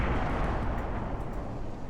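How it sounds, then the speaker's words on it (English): Naval gunfire at a battleship in Ultimate Admiral Dreadnoughts, a steady, loud, dense rumble of distant heavy guns and explosions rolling on without pause, with no voices over it. "We're gonna shoot the battleship down."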